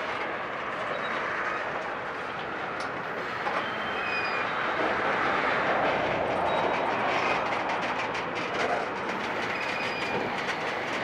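A train passes slowly at walking speed at a dark-signal meet, a continuous rumble of rolling cars with faint intermittent wheel squeals and clicks, steady and fairly close throughout.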